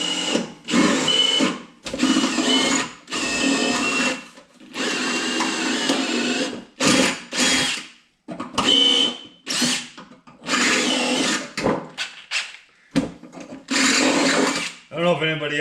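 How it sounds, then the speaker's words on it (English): A DeWalt power drill whirs in repeated short bursts, close and loud, with pauses between each hole. "So I'm gonna start drilling my holes here"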